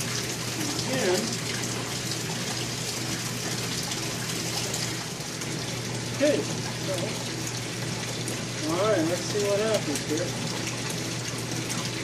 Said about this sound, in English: I've allowed the water to start flowing in here, and it's going to take quite a while to fill this up